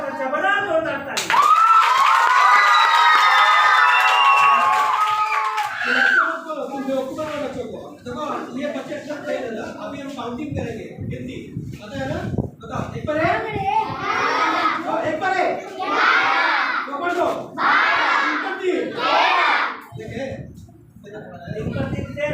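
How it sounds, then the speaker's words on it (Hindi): Loud burst of clapping and excited cheering from a group of children at a workshop, starting abruptly and lasting several seconds before giving way to chatter and shouting voices. "बहुत अच्छा, बड़ा जोरदार ताली"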